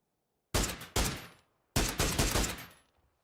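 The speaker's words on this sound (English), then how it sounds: "there's literally someone fires a gun" Gunfire in the shooter game PUBG: three loud, close bursts of automatic shots, the first two in quick succession and a longer third after a short gap, each ending in a decaying echo with silence around them.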